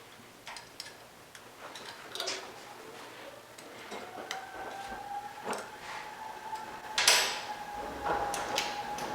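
Tools tighten bolts on an electric motocross conversion kit for a Yamaha YZ, giving soft clicking ratchet ticks and light metallic taps and creaks at close range, fairly quiet and irregular, with no talk.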